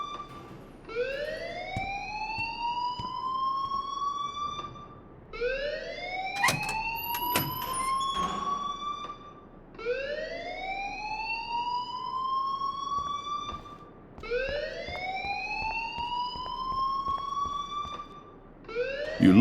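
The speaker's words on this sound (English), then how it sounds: "please turn off that alarm since that's your job" A fire alarm in the Life is Strange video game repeats a loud rising electronic wail about every five seconds, with four cycles that each swoop upward and hold, plus a few brief clicks and no speech.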